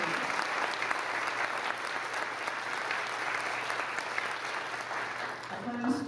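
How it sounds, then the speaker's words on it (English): An audience at a school district convocation breaks into sustained, even applause, a dense wash of clapping that holds steady for several seconds. "So I'd like a big round of applause."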